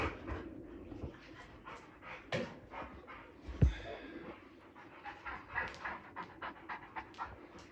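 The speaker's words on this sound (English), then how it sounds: "Got some idiot dogs here." Several dogs pant heavily and rapidly up close in a shed, with steady rhythmic breaths, a brief whimper and a sharp knock partway through.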